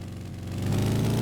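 A motorcycle with a loud exhaust being ridden toward town, its engine note close and rumbling, growing louder and rising steadily over a moment.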